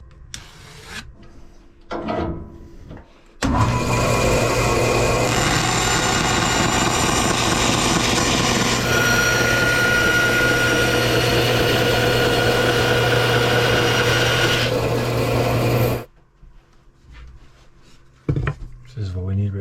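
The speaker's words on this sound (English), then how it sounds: "I'm just going to chop it in half." A power saw cutting a sheet of MDF in half, a loud steady whine with rasping texture lasting about twelve seconds, with brief workshop sounds before and after.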